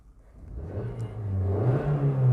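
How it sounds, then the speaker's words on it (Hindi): A car engine revs up while the accelerator is pressed during a beginner driving lesson, a low steady hum that swells into a louder, rising whine over about two seconds. "देखिए एक्सीलेटर की आवाज़ सुनना"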